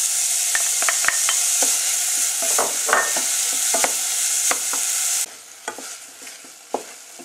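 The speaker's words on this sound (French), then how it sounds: "après cette petite coloration, ajouter notre mélange, oignon et gingembre râpé" A grated onion and ginger mixture fries in a pan, a steady hiss with scattered clicks of stirring that drop sharply quieter partway through, with no voices.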